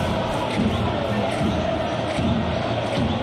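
A football stadium crowd at an AC Milan versus Manchester United Europa League match gives a broad, sustained roar of appreciation, dense and distant-sounding, swelling slightly over a few seconds.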